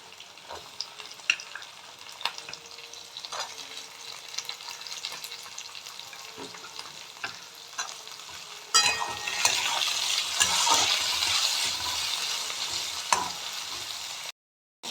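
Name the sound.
frying and stirring capsicum, bell pepper and peas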